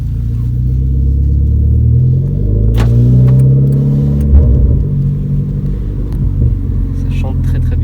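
A Renault Clio 4 RS Cup petrol engine idling and running at low revs around 1500 rpm heard from inside the car, a steady deep rumble with a brief rise in the middle while people talk over it.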